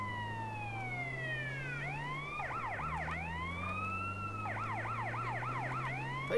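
Police sirens wail in GTA San Andreas, two sirens overlapping, one sweeping long slow tones and another whooping rapidly, over a low steady engine hum, moderately loud and continuous.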